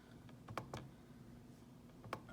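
A few quiet keypresses tapped out on a calculator or keyboard while entering numbers for logarithm problems, with three or four sparse clicks spread over a couple of seconds against a low steady hum.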